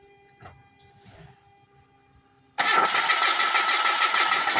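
Mitsubishi G4 engine cranking and catching after a broken fuel pump wire repair, a sudden loud start following quiet clicks, then a steady running roar close by.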